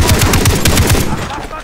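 Loud, rapid automatic gunfire from the Far Cry 3 video game rattles in a fast, even burst of close shots, then cuts off and leaves a fading tail.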